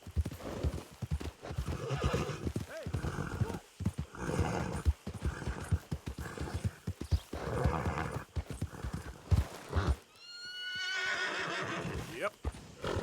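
A horse in Red Dead Redemption 2 is ridden with rhythmic clip-clop hoofbeats and snorts under a rider's spoken commands, ending in a loud whinny near the close.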